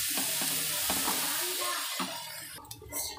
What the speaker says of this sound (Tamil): இது மாதிரி நம்ம கொஞ்சம் நல்லா வதக்கி விட்டுடுங்க